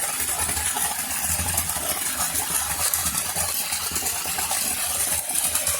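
Steady rushing and splashing of water falling over rocks at a small waterfall cascade, continuous and fairly loud, with no voices.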